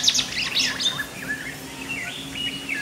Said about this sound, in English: The white-browed whitetail has a variety of calls, including a sharp chip-chip sound.